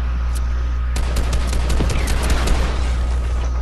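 Video game gunfire in a duo squads match: after a quiet second, a rapid string of shots crackles for a couple of seconds over steady background game noise.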